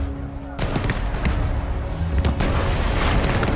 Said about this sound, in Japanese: 大砲に注意して。